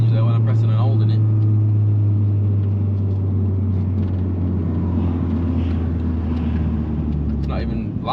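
Vauxhall Zafira GSI turbo engine droning steadily and loudly from inside the car, a constant low rumble with turbo character holding for the whole stretch, with voices talking over it.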